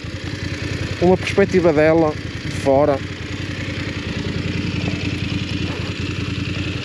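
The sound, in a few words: BMW F 850 GS Adventure motorcycle engine idling while stopped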